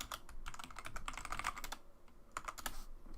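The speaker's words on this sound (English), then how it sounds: "let me know if my keyboard is really loud" A computer keyboard sits right beside a microphone, and its keys clatter in quick, irregular bursts of typing with a short pause in the middle, crisp and close but fairly quiet.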